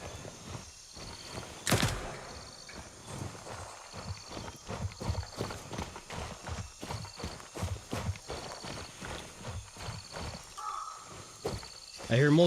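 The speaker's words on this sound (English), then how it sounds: "I hear multiple footsteps." Several sets of footsteps patter in a video game, rapid uneven steps scattered across the stretch at moderate volume, with crickets and ambient game noise behind and brief speech near the end.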